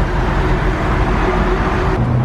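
Old four-wheel-drive car cruising at its 50 mph top speed, a loud, steady broadband road and engine roar that stays constant throughout, with no talk.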